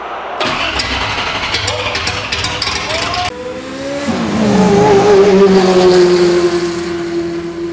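A Datsun 280z with an open header cranks with a rapid clattering starter whir, then fires and settles into a loud, raw, rumbling idle up close, with excited voices around it.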